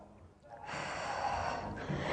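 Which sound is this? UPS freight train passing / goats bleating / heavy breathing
heavy breathing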